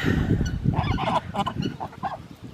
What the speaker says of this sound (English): This goose is giving me a look.